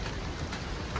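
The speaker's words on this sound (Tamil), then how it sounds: "மழையில் ட்ரெக்கிங் பண்ணுறது" Steady rain falls during a mountain trek from Chhomrong to Deurali in Nepal, a dense, continuous hiss of drops hitting nearby surfaces with no voices.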